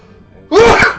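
One sharp, close sneeze bursts out after a quiet moment, loud and abrupt, then fades within half a second.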